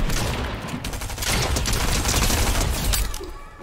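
Dense, continuous automatic gunfire from a Fortnite match, rapid overlapping shots and sharp cracks filling the whole stretch at steady, loud level with a brief shattering edge near the end.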